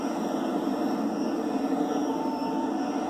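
A jet in the Lego Dimensions video game flies with a steady, loud engine roar and a broad whooshing drone that holds for the full stretch without a break.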